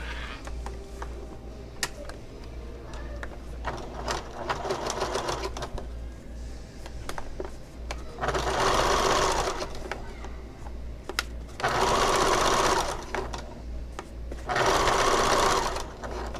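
Sewing machine stitching a convertible bag in three separate runs of steady rapid whirring, with handling clicks and a low constant hum between them.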